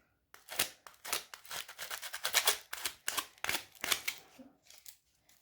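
Dried hot glue being scraped off a glue gun's plastic part with tin foil: a run of short, crisp scratching strokes in quick irregular bursts, close and fairly loud, with brief pauses between.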